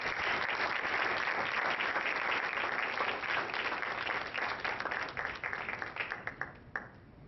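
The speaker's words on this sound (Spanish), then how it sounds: "Vamos a darle un aplauso, por favor." Audience applause at the Gran Museo del Mundo Maya during the Maya culture festival, welcoming a lecturer: a full, sustained round of many hands clapping that thins out toward the end into a few scattered claps.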